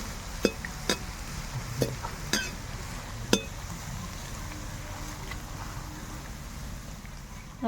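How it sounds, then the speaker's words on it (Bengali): Gram flour boondi for motichur laddu fry in a pan of oil with a soft, steady sizzle, broken by several sharp metallic clinks and taps from a utensil early on and then settling into even frying. "এইভাবে আমি বাকি বন্দেগুলো ভেজে নেব সবগুলো একইভাবে"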